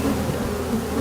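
Tens of millions of honeybees working among rows of yellow hives in green countryside in May make a dense, loud, unbroken wing buzz, close and steady with no voices.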